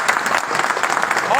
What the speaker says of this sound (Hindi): हम लोग एक बार जोरदार तालियों से स्वागत करेंगे परमार जी का